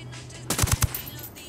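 Submachine gun fire from a cartel sicario outside a lab in Ghost Recon Wildlands: a short, sharp burst of three or four loud, close shots rising out of quiet background ambience.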